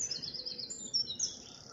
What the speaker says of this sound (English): That's a wren.